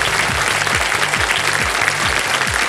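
A studio audience on a televised quiz show, Kaun Banega Crorepati, claps loudly and continuously, and a rhythmic, pulsing music cue plays beneath the applause.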